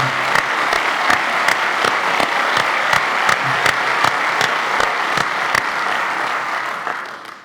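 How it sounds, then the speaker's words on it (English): Dense, steady audience applause at a university presidential event, loud sustained clapping from a large crowd with a few sharp nearby claps standing out, fading at the very end. "yeah, that's for applause."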